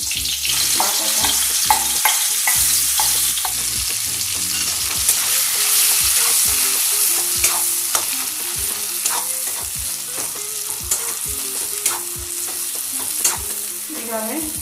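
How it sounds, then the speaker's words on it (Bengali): Ground green pea filling for kachori, cooked with asafoetida, is stirred and fried in a pan: repeated scraping and stirring strokes over a steady sizzle, close and continuous. "নেড়ে নেড়ে পুরটাকে শুকনো শুকনো করে তৈরি করতে হবে।"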